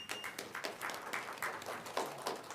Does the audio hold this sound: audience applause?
yes